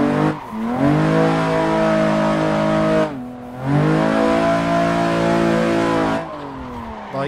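A car engine in Assetto Corsa revs loudly in long sustained pulls, dropping briefly between shifts before climbing again, with faint tire noise.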